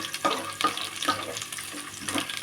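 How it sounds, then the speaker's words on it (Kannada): Peanuts frying in oil in a home kitchen, a light crackling sizzle with a few stirring knocks and scrapes, close and moderately loud. "ಸ್ವಲ್ಪ ಕಡಲೆಬೀಜ ಈ ಥರ ಎಣ್ಣೆಯಲ್ಲಿ ಫ್ರೈ ಆಗಬೇಕು"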